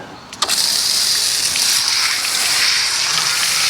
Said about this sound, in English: it's still actually water shooting out of there